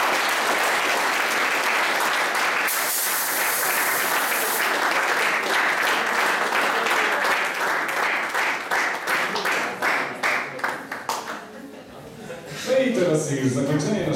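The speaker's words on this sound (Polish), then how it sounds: "wielkie brawa dla całej grupy, dla was wszystkich" A hall audience at an anniversary gala claps for the whole group, a dense, steady roar of applause that thins into scattered claps and fades near the end, with a voice and some noise rising over the last moments.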